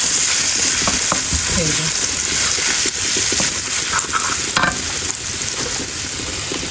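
Egg frying in a pan with turmeric, salt, onion and cumin gives a steady, loud broadband sizzle with stirring scrapes throughout, and a brief voice speaks over it.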